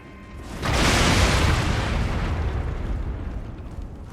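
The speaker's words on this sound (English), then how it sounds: "Exploding barrels." Barrels explode in Elden Ring, a dark fantasy video game: one loud, broad blast that sets in suddenly and then rolls on as a long, rumbling, slowly fading roar with no talking over it.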